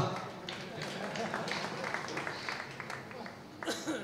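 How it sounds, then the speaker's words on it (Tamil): Audience clapping at a Tamil book release ceremony, a moderate, continuous patter of hands across a hall, with a brief louder swell near the end. "என்ன சேகர் கைத்தட்டேன்ப்பா"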